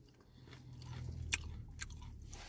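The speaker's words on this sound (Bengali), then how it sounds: "অবসর সময়ে বসে বসে বাদাম খাচ্ছি।" Crunchy fried peanuts from a packet being chewed close up, with soft, irregular bites and a couple of sharp crunches, quiet and alone.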